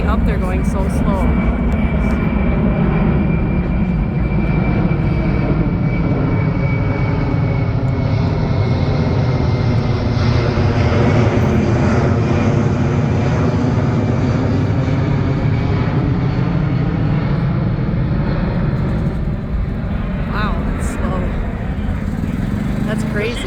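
A C-17 military transport aircraft roars during an air show flyover, a loud, sustained jet engine rumble that swells and eases as it circles the airfield.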